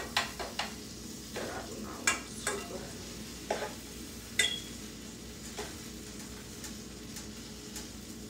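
Food frying in butter in a pan during a home breakfast cook, a steady soft sizzle with scattered clinks and scraping stirs over it, no talking.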